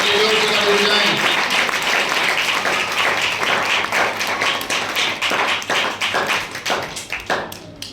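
A church congregation at a sermon meeting in Kalichpur, Gurdaspur applauds loudly and continuously. The clapping thins toward the end into scattered individual claps.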